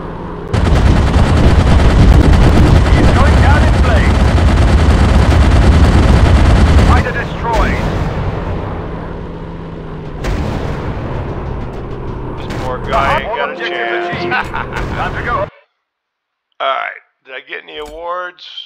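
Bombs and gunfire in the WW1 warplane game Sky Aces: a loud, dense roar of blasts and rapid shooting runs for about seven seconds, then lighter battle noise fades out to scattered sounds and a voice.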